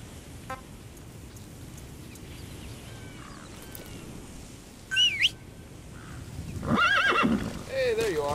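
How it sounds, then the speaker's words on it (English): Horse in the game Metal Gear Solid V neighs and whinnies loudly near the end, after quiet ambient wilderness with faint birds; a few hoof clip-clops come through, though galloping is not clearly sustained. "Use your horse."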